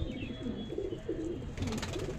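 A male pigeon coos softly nearby, a few low, rolling throaty coos in a quiet space, faint and intimate with a little background noise.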